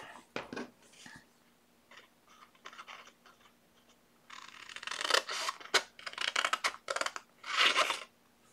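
A paper square being cut for a wallet mailer, with an uneven run of snips and rustling paper, louder bursts near the end, close and alone.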